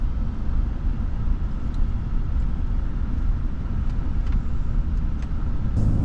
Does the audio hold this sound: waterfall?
no